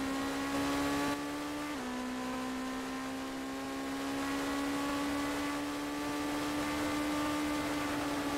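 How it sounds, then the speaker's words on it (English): A GT3 race car in a racing video game at Spa holds a steady, loud engine drone that dips briefly in pitch and then climbs smoothly as it runs over a rumble strip, with no talk over it. "Running over that rumble strip."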